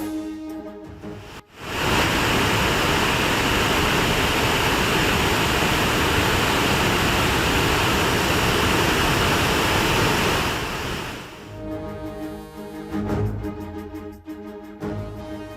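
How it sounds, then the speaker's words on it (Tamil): Floodwater thunders down the swollen Panchalinga waterfall in Tamil Nadu, a loud, unbroken rushing roar that starts abruptly, holds steady for several seconds, then cuts away to quieter sound. "பஞ்சலிங்க அருவியில் வெள்ளப்பெருக்கு"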